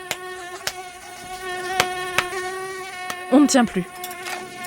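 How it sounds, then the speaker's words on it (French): Mosquitoes whine steadily around the listener outdoors in the evening, their buzzing close and persistent under sharp clicks, while a voice speaks briefly near the end. "Parfois, même si l'on s'est enduit de produits anti-moustiques, ils viennent nous tourner autour de manière insistante"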